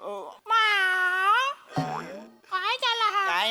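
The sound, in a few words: cat meowing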